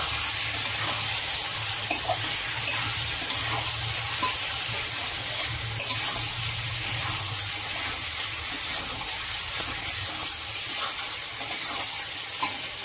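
Tomato and tomato paste fry in a pan for a homemade chicken curry, giving a steady, even sizzle and hiss that runs unbroken and close throughout, with no talking.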